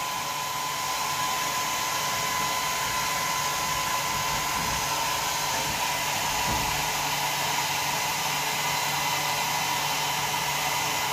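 Hair dryer blowing warm air over a wet silkie chicken's feathers during a bath, a steady loud whirring hum held throughout with slight shifts in tone as it moves.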